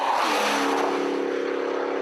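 A Holden car accelerates hard on a race track, its engine a loud, steady rising drone that holds close and continuous throughout.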